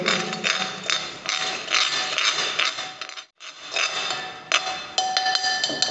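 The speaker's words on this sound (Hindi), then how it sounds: "अब इस मसाले को मिक्स करेंगे" A spice masala of garam masala powder, turmeric and salt is mixed in a bowl, producing busy scraping and sharp metallic clinks of a spoon against the bowl, with a brief pause midway.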